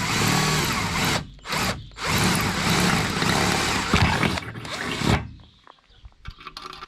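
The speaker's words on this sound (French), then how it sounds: "donc je vais percer avec un forêt de 3 en fait" A drill with a 3 mm bit bores through metal lubricated with cutting oil, a loud sustained grinding whine broken by two brief pauses before stopping near the end, leaving faint clicks.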